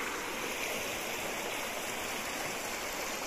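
A river runs steadily at the Sungai Pauh campsite in the Cameron Highlands. The flowing water makes a constant, even rush of moderate loudness that carries through the whole stretch with no voices over it.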